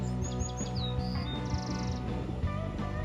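A Bewick's wren at a bird feeder gives bright, thin chirps and quick trilled notes in short bursts over a low background hum, near and fairly clear.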